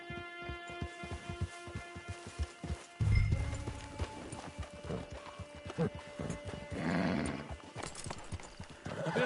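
Horse in Red Dead Redemption 2 trotting with steady clip-clop hooves near a camp, then a loud whinny midway, with game music humming underneath and no talk.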